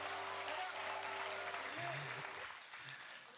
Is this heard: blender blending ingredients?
no